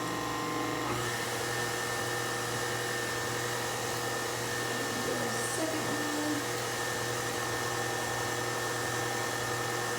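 Electric mixer beating eggs one at a time into a ricotta cake batter, a steady loud whirring drone that runs continuously close up, with no talk over it.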